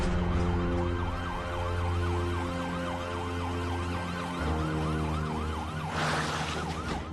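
Wailing police siren cycling up and down steadily at moderate distance, with a low engine rumble beneath and a brief burst of noise near the end; no talking.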